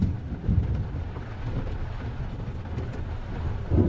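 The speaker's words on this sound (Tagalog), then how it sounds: "Sakto pala yung vlog ko, malakas ang ulan ngayon." Steady heavy rain roars throughout, dense and close, with low rumbling swells and no voices.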